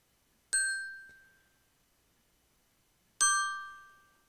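Two struck tubular bells, each a single bright chime with a church-bell ring that decays slowly over a couple of seconds, the strikes spaced well apart in a quiet room.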